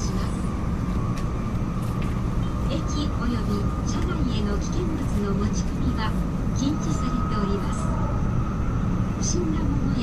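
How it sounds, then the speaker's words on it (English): A train in Japan runs at speed, giving a steady loud rumble and hum from inside the carriage with a constant tone, while people talk intermittently over it. "We're going pretty fast already. I'm sure you guys can hear the engine."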